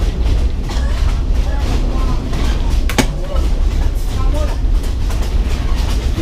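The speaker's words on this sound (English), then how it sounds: "the train is shaking quite hard" A Myanmar railway train rumbles loudly and continuously while shaking hard, with deep low rolling noise, rattling and a brief sharp clank near the middle; no talk is heard.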